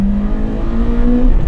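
A Honda Integra Type-R engine revs steadily upward toward VTEC, with a strong continuous drone and a rising tone heard from inside the car. No talk.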